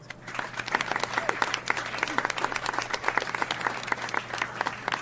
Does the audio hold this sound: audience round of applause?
yes